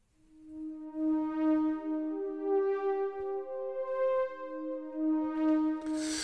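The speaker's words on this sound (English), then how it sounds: "the pink is called a sweep synthesizer" A pink sweep synthesizer in a virtual-world music demo plays a sustained melody of long, rich, harmonic-laden tones that glide between notes at a steady loudness, with no talking over it.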